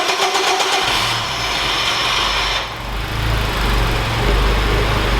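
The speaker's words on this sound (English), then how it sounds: "now we get to find out if our clutch is just a noisy ass clutch" The K20-swapped Honda Civic sleeper with a twin-disc clutch cranks and fires close up. It catches into a loud, rough idle, dips briefly, then settles into a steady rumble with a faint whirring clatter from the clutch.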